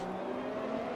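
Racing game cars, an Alpine and an AlphaTauri, brake down into a hairpin with a steady droning engine roar from start to end.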